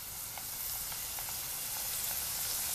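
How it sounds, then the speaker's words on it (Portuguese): Pork skin crackling as it fries in hot oil, a steady dense sizzle with faint scattered pops, continuous and close throughout with no voices. "Olha como ela pururuca rápido"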